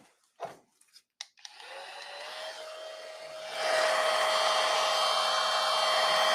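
A hair dryer switches on after a few soft handling knocks, whirring at low speed before stepping up to a louder, steady blowing hiss while drying eyebrow tint.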